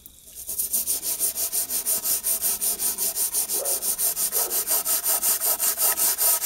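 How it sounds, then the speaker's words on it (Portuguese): A toothbrush loaded with cleaning product scrubs old leather on a vintage Teleotto record player in quick, even back-and-forth strokes, a loud rhythmic rasping close to the mic with no talking. "E agora, escova de dentes e esse produto vai passar ele aqui na escova"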